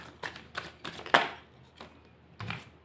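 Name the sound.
tarot cards being shuffled, cards falling out of deck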